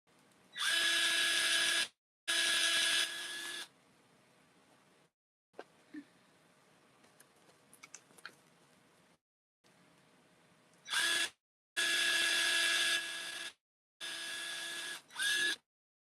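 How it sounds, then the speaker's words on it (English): Loud bursts of a drill whirring in short on-off runs, separated by quieter stretches of faint clicks and handling noise. "Almost done with the drill noise."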